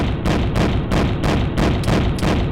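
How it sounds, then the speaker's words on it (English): Heavy guns on a HISS tank fire in a G.I. Joe–style video game mod, a rapid series of about seven loud, booming cannon blasts in steady rhythm, close and dense with no talking. "It's not sure what kind of weapons are on this thing, but they sound big and angry."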